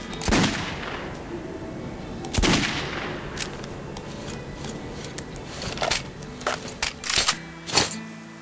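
Gunfire in the video game Metro 2033: a few sharp shots ring out in sequence with a busy clatter of smaller impacts between them, fairly loud over a low background.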